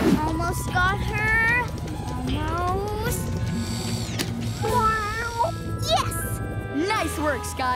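A cartoon kitten meows with rising and falling cries amid busy background music and sound effects, while voices talk around it.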